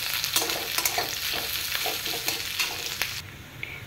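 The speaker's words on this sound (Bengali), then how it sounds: "এর মধ্যে আমি পেঁয়াজ কুচোনা দিয়ে দেব। এটাকে নাড়াচাড়া করে নেব।" Chopped onions fry in oil with bay leaf and cumin, a soft steady sizzle broken by repeated close scraping strokes of a spatula stirring them in the pan, ending quieter.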